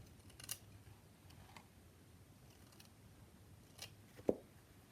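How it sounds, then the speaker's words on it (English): Faint, sparse snips of serrated scissors cutting through fabric, a few scattered crisp cuts in a quiet room. "scissors that are serrated that have changed my life because they don't push the fabric out"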